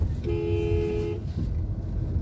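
A single steady car horn blast lasting about a second on the Lucknow to Hardoi road in India, sounding over a constant rumble of traffic and engine noise.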